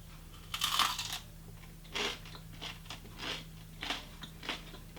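Crunchy bites and chewing of chicken liver pate topped with chili onion crunch, several close, crisp crunches spaced over a few seconds against a low steady hum.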